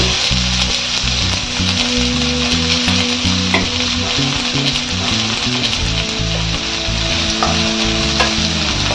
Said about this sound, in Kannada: ಈಗ ಇದಕ್ಕೆ 2 ಈರುಳ್ಳಿ ಹಾಕ್ತಾ ಇದ್ದೀನಿ.